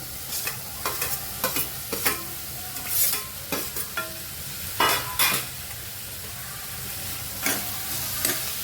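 Finely chopped tomatoes fry in a pan for Mumbai-style pav bhaji, a steady sizzle broken by repeated scraping stirs of a spoon, close and moderately loud with no talk.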